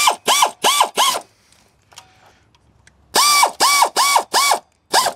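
A ratchet tightens the water pump bolts on a Chevy Venture in loud, close, rhythmic bursts: four quick clicking strokes, a short pause with faint handling, then five more strokes.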